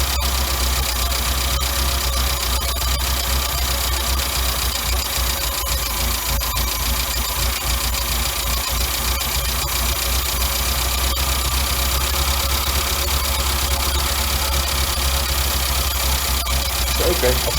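A car engine fitted with a Weber DCD 7 carburetor with a return spring idles steadily and loudly, with a continuous low rumble and a faint uneven knock running through the whole stretch.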